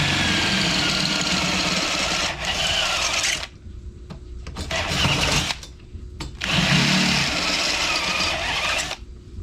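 A power drill boring out a rivet on a manual window regulator from an Isuzu Trooper, loud whining bursts of drilling broken by short pauses and a few brief stops, up close with no talking.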